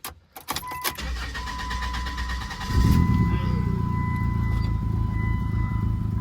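A modified Chrysler Sebring engine gets its first start: the starter cranks briefly, then the engine catches and settles into a loud, steady idle up close.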